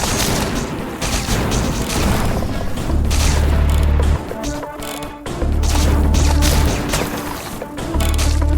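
Enemies in the video game Disfigure blow up on death, giving heavy booming blasts and crashes with dense gunfire-like clatter, loud and continuous throughout.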